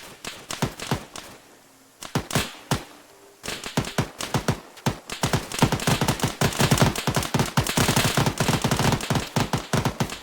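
Arma 3 gunfire: long, rapid bursts of automatic shots, with sharp, loud cracks in fast rhythm that grow denser and almost continuous in the second half, no talking.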